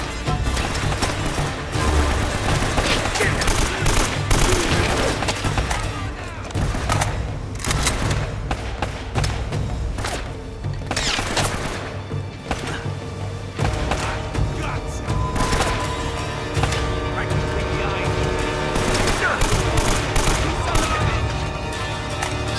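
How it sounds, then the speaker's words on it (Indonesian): Sustained enemy gunfire from above in Uncharted: Drake's Fortune, with dense volleys, thuds and booms layered over steady game music and ambience, loud and continuous with a few sharper bursts. "Iya ya, dari kiri atas ada musuh yang nembakin."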